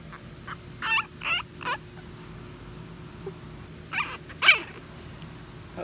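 Newborn puppies in a kennel whelping area make soft, high squeaks and whimpers in a few short bursts, close by but quiet, over a low room hum.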